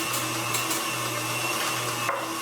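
An electric mixer whirs steadily through wet ingredients for a chocolate raspberry buttermilk pound cake, a constant close motor hum with no pauses.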